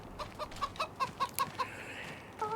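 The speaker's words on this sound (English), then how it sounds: "are the chickens. Because we do have chickens here." Chickens in Farming Simulator 25 on a Kentucky island map, giving a quick run of about eight soft, regular clucks followed by a brief higher call, faint and heard with no talk.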